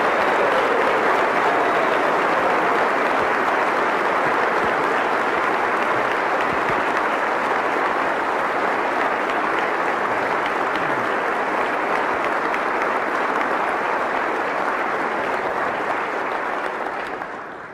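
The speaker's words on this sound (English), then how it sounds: "Please give our great National Guard an incredible round of applause." Sustained, dense audience applause at a West Virginia State of the State address honoring the National Guard, loud and steady throughout before tapering off at the end, with no talk over it.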